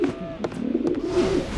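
Cartoon birds cooing, a few short soft coos in quick succession, fairly faint and close, with no talking over them.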